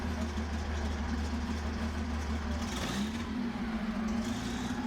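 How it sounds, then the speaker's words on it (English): A Tiger tank engine runs steadily right after starting, a loud continuous low rumble with a deep idle throb and a slight rise in pitch partway through, with no talking. "With the engine fired up, another important milestone in the Tiger Conservation Project is passed."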